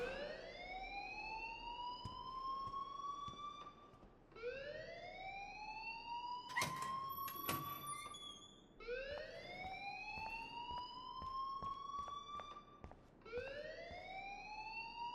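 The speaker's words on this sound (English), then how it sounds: "please turn off that alarm since that's your job." A school alarm in the video game Life is Strange rings as a rising electronic whoop, repeating steadily about every four seconds, loud and continuous with a few sharp clatters mixed in.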